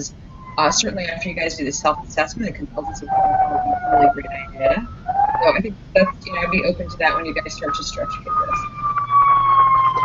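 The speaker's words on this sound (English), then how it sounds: "sorry for the siren." An emergency siren passes outside during a live online discussion, its wailing tone sliding up and down steadily for the whole stretch while one person talks continuously over it.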